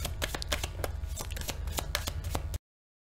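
Tarot cards are shuffled by hand in a rapid run of crisp riffling slaps and flutters, close and fairly quiet, ending abruptly after a few seconds.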